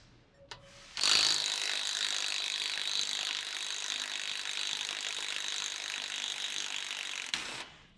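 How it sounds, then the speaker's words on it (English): Ratchet wrench turning a 13 mm nut off a Gen 2 Ford Raptor axle, a rapid, continuous clicking whir lasting several seconds, close and clear, with no talking. "you just want to take this nut out and it'll let the axle move freely"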